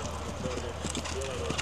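Horse hooves on an eventing cross-country course in Ratomka, a steady clip-clop of strides heard at moderate distance under a constant outdoor rumble, with a voice speaking over it.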